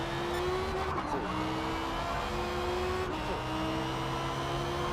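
A race car engine drones steadily in Forza Motorsport multiplayer, holding a high revving tone with brief pitch dips at gear shifts.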